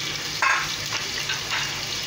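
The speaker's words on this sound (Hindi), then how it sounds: "इसमें प्याज लाल करूँगी" Onions sizzle softly in hot oil in a pan, with a steady, quiet frying hiss and a brief brighter crackle near the start.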